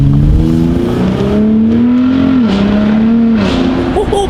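A Gen 3 Ford Raptor truck's engine revs loudly, its exhaust note rising and settling in a sustained tone with sharp pops at the end. A voice can be heard faintly underneath.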